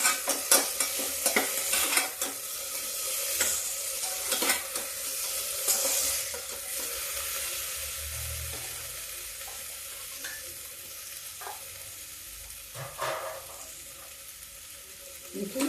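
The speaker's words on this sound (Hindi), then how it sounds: "अब आलू थोड़ा फ्राई हो जाएगी" Potatoes frying in a pan for a potato-vadi curry, a steady sizzle with scraping stirs and sharp utensil knocks against the pan, close by and moderately loud.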